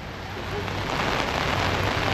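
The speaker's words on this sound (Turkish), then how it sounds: "Feci sağanak başladı." Heavy downpour of rain in Paraguay, a dense, steady hiss of water pouring down and striking surfaces, growing slightly louder and continuing without a break, with no voices.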